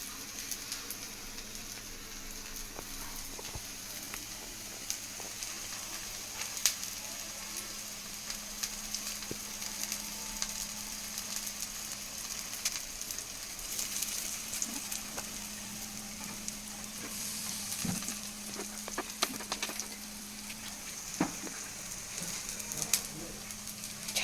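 Sweet corn cutlets shallow-fry side by side in a pan, giving off a low, continuous sizzle and soft crackle with faint ticks and pops throughout and no clear speech.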